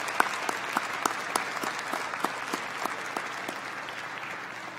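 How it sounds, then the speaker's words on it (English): A college commencement audience applauds families and friends, a sustained crowd of clapping with a few sharp individual claps standing out, steady and moderately distant. "Let's take a moment to give them a round of applause and thank them for their love,"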